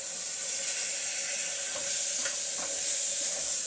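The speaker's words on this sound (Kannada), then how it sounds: "ಇದನ್ನು ಇವಾಗ ರಾ ಸ್ಮೆಲ್ ಎಲ್ಲ ಹೋಗೋವರೆಗೂ ಫ್ರೈ ಮಾಡ್ಕೋಬೇಕು" A coarse paste of green chilli, mint and coriander fries for biryani, giving a loud, steady sizzle with faint wet stirring scrapes close by and no talking.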